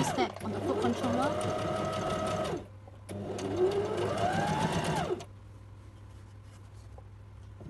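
A Brother LX27NT sewing machine stitching fabric, running in two close, rapid bursts of about two and a half seconds each with a short pause between, its whirring motor and needle clatter loud and steady.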